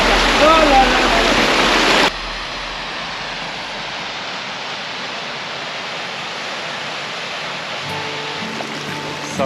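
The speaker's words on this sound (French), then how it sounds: "La cascade au milieu de la glace." Waterfall in the ice in the Pyrenees mountains gives a steady broadband rush, loud for the first two seconds and then softer and distant, with faint tonal sounds near the end.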